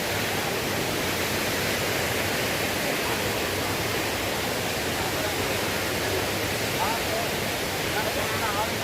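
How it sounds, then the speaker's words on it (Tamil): The waterfall at Hogenakkal, beside the hanging bridge, gives a steady, loud, unbroken roar of rushing water that fills the whole stretch with constant broadband noise. "இது பக்கத்துலேயே பார்த்தீங்கன்னா நீர்வீழ்ச்சி பாருங்கள் எப்படி போயிட்டுருக்கு."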